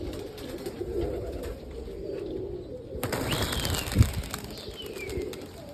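Young roller pigeons, squeakers, coo softly inside their coop, a low continuous murmur under faint background hiss, with a brief thump near the middle.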